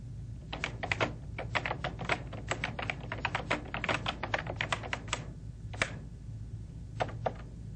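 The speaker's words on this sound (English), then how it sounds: "Because this text is highlighted, I can just begin typing." Steady typing on a computer keyboard, a run of quick close clicks that thins into a few scattered keystrokes, moderately quiet over a faint background hum.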